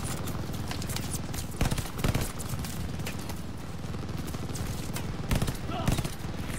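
Dense, rapid machine-gun fire from a WWII battle at El Alamein in Call of Duty: Vanguard, rattling continuously with louder bursts throughout, and occasional speech mixed into the combat.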